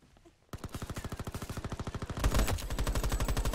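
Sustained automatic gunfire in a shooter video game, a rapid, even stream of close, loud shots that thickens into heavier overlapping bursts toward the end, with no speech.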